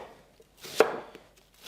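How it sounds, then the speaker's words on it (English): A single sharp knife chop through an onion on a cutting board while cooking Cantonese-style chicken curry, close and isolated, with a few faint taps before and after. "So there's my onion. That's all of the chopping."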